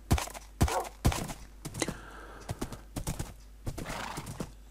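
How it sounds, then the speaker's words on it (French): A Minecraft horse neighs amid a run of loud, close hoof thuds on the ground, with several sharp irregular steps and a breathy whinny in between. "Voilà, donc le cheval, il vient du troupeau qui est là-bas"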